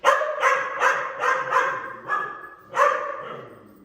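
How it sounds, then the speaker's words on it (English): A dog demand-barks close by in a quick series of sharp, repeated woofs, about seven barks with brief pauses between. "Is that demand barking?"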